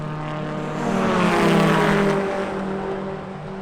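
A race car engine at the Phillip Island circuit during a race, a steady loud drone with a strong low harmonic hum that swells near the middle and eases off again, close by with no talk.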